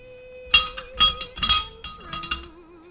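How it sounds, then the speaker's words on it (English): Metal starter ring gear clinking against a flywheel as it is tried on, a series of sharp ringing metallic knocks and scrapes, close and loud, with no talk. "So if we take this nice ring gear here and we try to put it on this flywheel."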